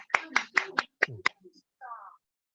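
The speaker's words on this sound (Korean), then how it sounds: "쓸 수 있으면 다들 박수 한번 쳐보시죠" About six evenly spaced hand claps ring out up close, followed by a brief murmur of a voice.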